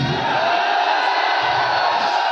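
A large indoor stadium audience at a motivational speech in Delhi shouts and roars back at the speaker, a loud, dense crowd wash filling the whole moment with no single voice standing out.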